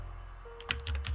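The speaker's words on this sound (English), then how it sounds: "Misk, we're getting keyboard noises." Quick bursts of computer keyboard typing picked up over a gaming voice chat, a few close clicky keystrokes after a faint tone.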